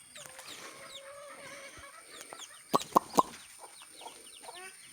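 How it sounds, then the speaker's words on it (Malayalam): Kadaknath (karinkozhi) and native country chickens cluck and call at a farm, with several sharp close squawks in quick succession amid softer chirps and scattered bird calls. "ഇതാണ് കോഴികൾ കരിങ്കോഴി ബാക്കിയുള്ളതെല്ലാം നാടൻ കോഴിയാണ്"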